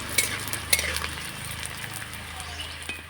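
Colourful homemade papad frying in hot oil, heard as a steady close sizzle broken by light metallic clinks and scrapes of a utensil against the pan.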